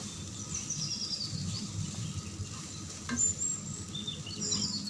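Ginger garlic paste frying in hot oil while being stirred for a Bengali bhuna khichuri, giving a steady, close crackling sizzle that runs throughout, with a brief scrape near the middle.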